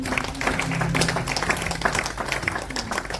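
A church congregation clapping together in a steady, dense patter with a sustained tone underneath, fairly loud and close, the applause filling the room without speech.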